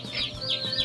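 Chicks in an incubator give a quick run of high, rising peeps, several close calls repeating in under a second with no talk over them.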